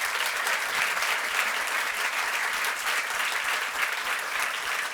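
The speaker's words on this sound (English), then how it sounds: "Please give our guests a great round of applause" A conference audience applauds its guests after an AI product management talk, dense sustained clapping from a large crowd filling the room, even and loud throughout.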